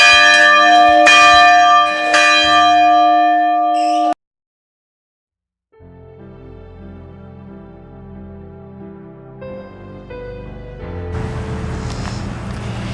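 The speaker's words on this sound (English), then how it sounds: "This is the bell that was original to that building," The original bell of the Cullman City School building rings in several close, resonant strokes, then a brief silence gives way to softer ringing tones that build into a broader wash of sound.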